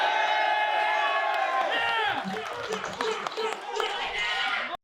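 A crowd shouts, whoops and cheers loudly at the Pedestal 4 tournament finals during the Southern Place Festival in Pasig, a dense sustained roar with scattered claps and excited voices.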